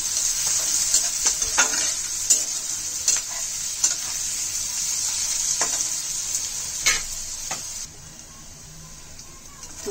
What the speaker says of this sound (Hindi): कड़ी पत्ता अब डाल दे रहे हैं, इसको भी डाल दें, इसमें थोड़ा भून लें